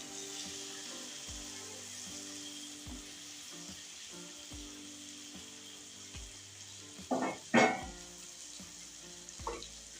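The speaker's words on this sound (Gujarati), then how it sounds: "અને ત્યાર પછી જે આપણે ટીંગોરા અને બટેકા તળીને રાખ્યા છે ને નાખી દઈશું" Ivy gourd (tindora) and potatoes hit hot oil in a pan, producing a steady, quiet frying sizzle with a few louder clattering stirs of a spoon near the end.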